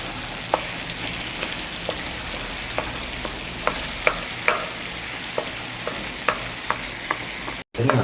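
A ladle mashes cooked tomatoes in a pan for Karachi chicken, making a steady series of sharp scraping taps against the pan over a soft background sizzle.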